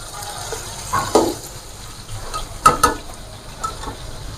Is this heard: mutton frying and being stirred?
yes